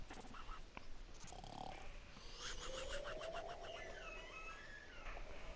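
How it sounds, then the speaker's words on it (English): Bravebeard, a burly bearded sailor in Burly Men At Sea, snores raucously in the game with low rumbling breaths under a faint tonal game soundtrack, fairly quiet overall. "Bravebeard begins to snore raucously."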